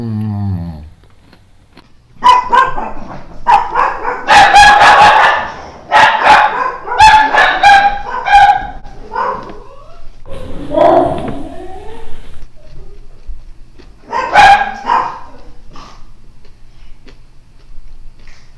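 Several dogs bark in loud, irregular bursts close by, with yips and a growl mixed in, filling the stretch after a quiet start.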